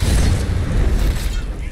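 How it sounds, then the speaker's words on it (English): Booming magical explosion from a bound sword striking in Skyrim, a heavy low blast that rumbles and fades over about two seconds, alone. "my bound sword does explosions on impact"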